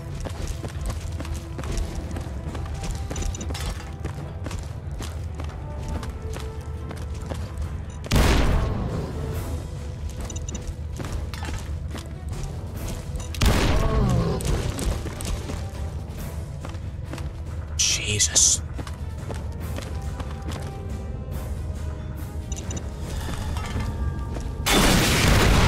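Missiles launching and exploding in a modded Fallout game, a steady low rumbling bed broken by several heavy booming blasts spaced seconds apart, loud and close.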